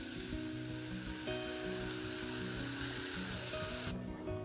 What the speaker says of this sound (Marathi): भाज्या टाकून छानपैकी हलवून घेते जरा तेलावरती परतून